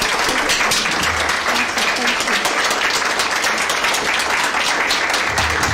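A standing audience at a judiciary and Law Society mentorship launch claps in a loud, continuous roar of rapid hand claps that holds steady from start to finish.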